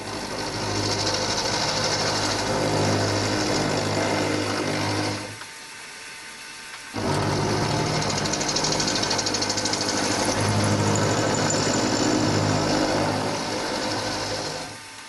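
A mini lathe running a cut on a workpiece gives a steady machine whir and hum with a higher cutting whine. It stops briefly partway through, then starts again and runs on at a constant level.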